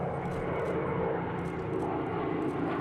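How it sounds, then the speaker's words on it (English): Vintage military aircraft, two P-51 Mustangs flanking an A-26 Invader, flying over with a steady, loud, rumbling piston-engine drone that holds constant throughout, with no voices. "Moments later, 2 P-51 Mustangs flew astride an A-26 Invader,"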